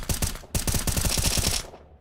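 Rapid automatic gunfire spray from a rifle in the game Counter-Strike 2 during a pro match, two loud close bursts of rhythmic shots separated by a brief gap, the second burst longer and tailing off.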